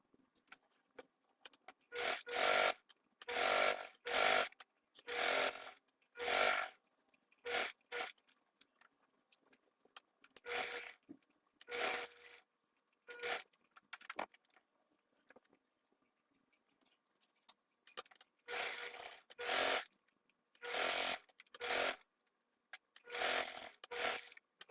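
A sewing machine straight-stitches a topstitch around the edge of a ruffled ladybug dish towel, running in short, rasping bursts with brief pauses between them. The stitching sounds close and moderately loud, with no talking.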